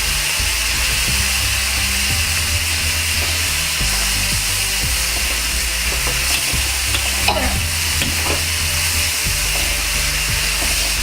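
Tomato, slit chillies and turmeric sizzle and fry in a pan while a spoon scrapes and stirs, a steady close hiss broken by rhythmic metallic stirring knocks.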